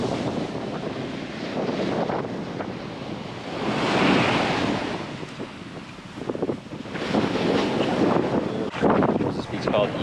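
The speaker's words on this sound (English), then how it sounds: "Look at these waves out here." Caribbean beach surf on Eagle Beach, Aruba, with waves rolling and crashing in swelling surges amid gusty wind buffeting the microphone, and people talking faintly.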